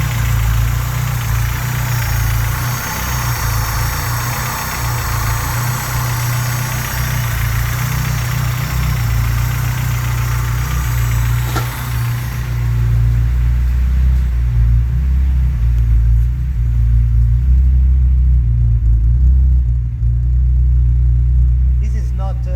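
Honda G23 engine idling with piston slap, a steady low rumble held throughout, with a brief sharp knock partway and the engine sound thinning toward the end.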